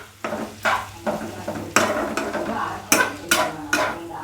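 Onions and tomatoes sautéing in a pan for dal-style onion and tomato chutney, heard as a steady soft sizzle with repeated scraping strokes of a spoon stirring, about eight close stirs with no talk.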